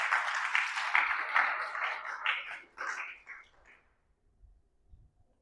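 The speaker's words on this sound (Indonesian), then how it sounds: "Berikan tepuk tangan bagi Tuhan." Church congregation clapping in applause for God during a sermon, a dense burst of many hands that fades out over about four seconds into near silence.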